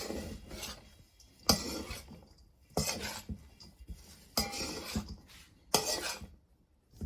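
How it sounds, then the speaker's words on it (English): Feta, Graviera cheese, dill and parsley being mixed in a bowl for Greek mini spinach pies, giving bursts of scraping, clinking utensil-on-bowl stirring in repeated strokes, close and fairly quiet with pauses between. "Your feta, your Graviera, your dill, and your parsley. Just mix everything up."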